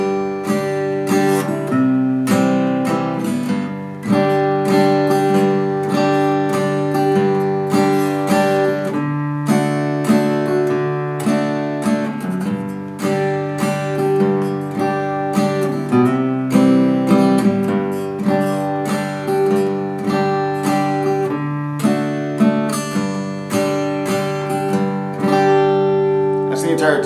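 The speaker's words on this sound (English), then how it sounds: "here's the simpler version of the tune without the 7th chords, just those 3 chords" Acoustic guitar plays a simple three-chord strummed version of Amazing Grace in a steady rhythm for nearly half a minute, close and clear. A voice may sing along faintly beneath the strumming.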